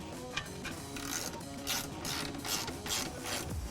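A ratchet wrench tightening nuts and bolts on an Addictive Desert Designs chase rack tire carrier bracket for a Ford F-150 Raptor, giving a steady run of close mechanical clicking with a few sharper ticks and no talking.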